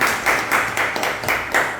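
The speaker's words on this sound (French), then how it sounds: "Applaudis pour toi." Rhythmic group clapping at a business training session, a crowd clapping in unison in quick regular beats for a couple of seconds.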